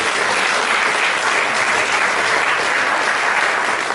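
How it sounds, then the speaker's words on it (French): A gospel dinner audience celebrating a television channel's third anniversary breaks into loud, sustained applause and cheering for the artistic director, a dense, steady roar of clapping throughout. "est-ce qu'on peut acclamer Nathan?"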